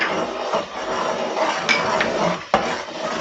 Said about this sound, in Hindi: अच्छी तरह से भूनेंगे इसे